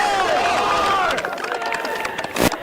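Spectators at a Holy Cross vs. Providence Friday night rugby match cheer and whistle after a penalty, a steady, fairly loud crowd roar that fades slightly toward the end, with a sharp burst near the close.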